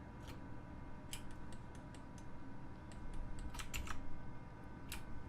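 Computer keyboard keys and mouse clicks from Blender shortcut work, a scattering of sharp clicks in irregular bursts, denser toward the middle, close and fairly quiet over a steady low hum.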